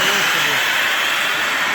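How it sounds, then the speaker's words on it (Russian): Steam hisses from a premium-class sauna stove, a broad, steady rushing hiss that holds at an even level the whole time, fairly loud and close. "Берете паровый котел, открываете или перекрываете, совершенно разный пар."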